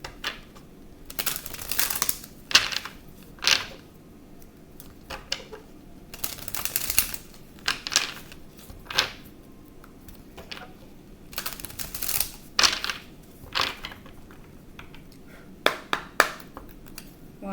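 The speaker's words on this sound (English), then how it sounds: "I'm going to shuffle." Intermittent bursts of a deck of tarot cards being shuffled, crisp riffling clusters recurring every couple of seconds, close and fairly quiet with no talking.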